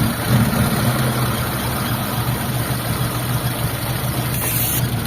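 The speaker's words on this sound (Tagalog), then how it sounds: "pakinggan nyo yung makina kung ano yung pagbabago" A Mitsubishi Lancer GLXi engine idles steadily up close with its vacuum hose pulled off, a rough continuous low rumble with a faint high whine, holding even throughout with no talking.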